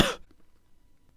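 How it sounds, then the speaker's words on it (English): A single short, close cough bursts out at the very start of a recording, then gives way to near silence. "use trimming to remove this cough from the recording"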